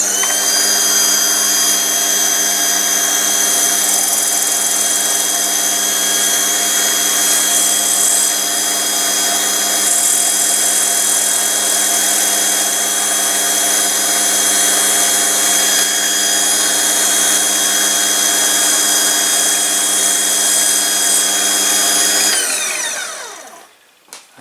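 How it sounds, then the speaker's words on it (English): A metal lathe facing off the end of a Tufnell workpiece, a steady whining tone with dense harmonics running continuously for over twenty seconds before spinning down and stopping at the end. "The first thing to do is to face off the piece of Tufnell."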